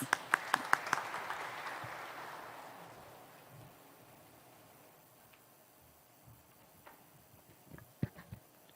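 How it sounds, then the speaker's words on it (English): Audience applause at the inauguration ceremony of a new head office building, a few sharp claps followed by a brief swell of clapping that fades into a quiet room with scattered faint claps. "Let's have a huge round of applause for him, please."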